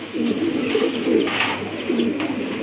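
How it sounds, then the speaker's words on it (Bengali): A young pigeon offered for sale coos nearby, with several low, throaty rolling coos in a loose rhythm, loud and close, without any talk during the calls. "এটা হলো প্রথম দশকের কবুতর"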